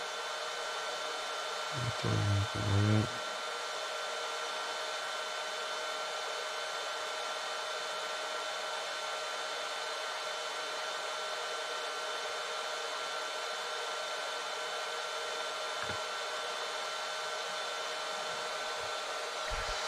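A motor held at maximum RPM gives a steady, unbroken whine like a hair dryer for the whole stretch, with a short low rumbling burst near the start; no one speaks.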